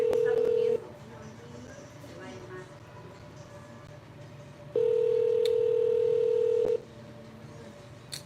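Phone dialing to call an aunt, with a loud, steady ringback tone sounding in two long bursts and brief beeps between them. A faint low hum runs underneath and a voice speaks quietly in the background.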